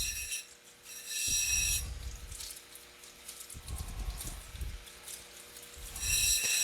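An opal being ground on a fine-grit cutting wheel, producing bursts of low rubbing and grinding with a bright high hiss, rising and falling as the stone is pressed on and eased off; no one speaks.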